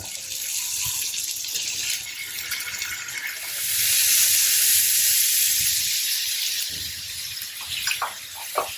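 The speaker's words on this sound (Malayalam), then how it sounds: "ഇതിലേക്ക് നമുക്ക് ചിക്കൻ ഇട്ട് ഫ്രൈ ചെയ്തെടുക്കാം" Chicken pieces for butter chicken fry in oil with a loud, broad hiss that swells midway and then eases, with a few small pops near the end.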